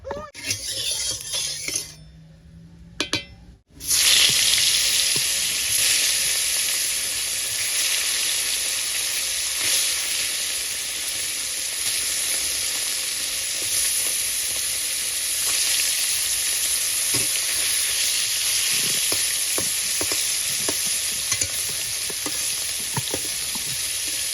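Fish (kola koi) frying in mustard oil in a hot wok, with a continuous loud sizzle and occasional clinks and stirring sounds after a brief quiet start.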